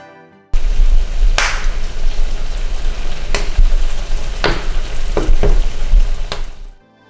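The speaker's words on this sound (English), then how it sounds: "You're going to start hearing the cranberries pop." Cranberries cooking in a pan for a cranberry mango relish, giving a steady loud sizzle broken by several sharp pops and crackles as the berries burst, with no talking.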